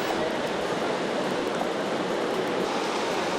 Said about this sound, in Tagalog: Behind me is the Desai Waterfalls.